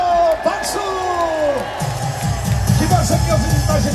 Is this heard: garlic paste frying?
no